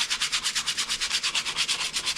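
A CNC-machined part is hand sanded in quick, even back-and-forth strokes, about eight per second, each a close, bright, raspy scrape with no voices.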